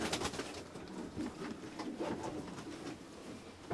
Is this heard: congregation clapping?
no